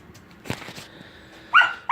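A puppy gives two sharp, close yips or barks near the end after a stretch of faint rustling and low background noise.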